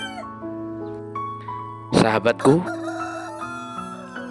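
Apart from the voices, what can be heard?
chickens clucking and rooster crowing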